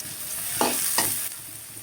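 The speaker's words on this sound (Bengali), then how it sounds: "লবণ দিয়ে ভেজে নিব" Chopped onions frying with salt in mustard oil in a kadai, a steady close sizzle broken by two or three short stirring scrapes, with no talking.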